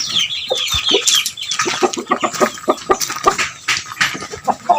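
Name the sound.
Bangkok chickens and chicks clucking in a coop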